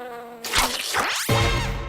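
A cartoon fly buzzes loudly in a busy animated scene, its whine sweeping up and down in pitch as it zips past before something gulps it down.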